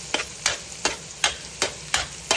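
Garlic frying in a pan as a spoon stirs it: seven regular scraping strokes roughly every third of a second over a soft constant sizzle, close and clear, with no voices.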